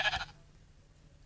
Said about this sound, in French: Là, des moutons, c'est de la bouffe.